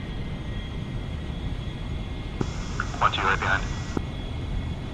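Aircraft taxiing onto a runway in DCS produce a steady low engine drone beneath radio chatter, with a brief brighter tone and clicks partway through.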